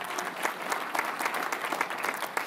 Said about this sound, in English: Let's have a round of applause for them, please.